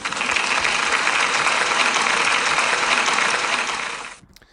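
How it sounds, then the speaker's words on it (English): Loud, dense applause from an audience at a school celebration, with a continuous burst of many hands clapping that carries on for about four seconds before cutting off abruptly. "Can we give Imogen a big round of applause, please?"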